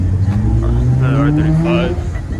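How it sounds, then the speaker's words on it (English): A Nissan GTR R35 pulls away at a New Year car meet in New York City, its engine note rising steadily and fairly loud under crowd chatter and voices. "Another GTR leaving."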